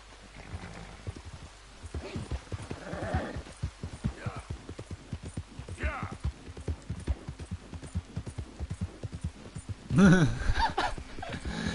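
Horse hooves clip-clop in a steady, rapid rhythm in the video game Red Dead Redemption 2, with a louder burst of movement near the end.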